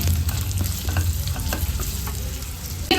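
Onions frying in a pan for a vegetarian kofta curry, giving a steady, close sizzle with repeated stirring scrapes throughout and no talking.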